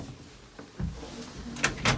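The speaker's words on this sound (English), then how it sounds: "Oh, the door doesn't open." A small oven-and-grill unit's door is tugged and rattled but stays shut, giving a few dull knocks and clunks, the last two loudest, in a quiet room.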